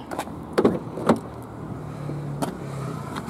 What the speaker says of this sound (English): Electric windows front and rear as well.